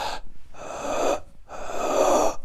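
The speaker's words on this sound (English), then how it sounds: "take a nice simple breath in, pause, and force yourself to breathe in even more" Two long, forced inhalations, each a loud, rough gasping intake of breath taken close up as the lungs are filled to their reserve, with a short pause between.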